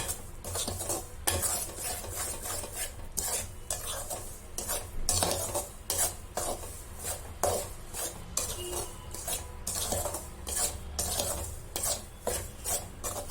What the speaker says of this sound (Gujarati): સરસ રીતે શેકાઈ રહ્યો છે મિશ્રણ છે તે ઢીલું પડતું જાય છે અને તેમાંથી ઘી ધીમે ધીમે છૂટું પડતું જાય છે